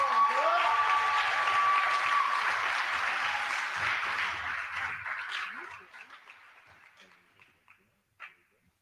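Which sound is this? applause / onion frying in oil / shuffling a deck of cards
applause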